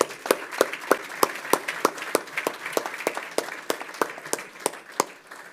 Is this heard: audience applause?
yes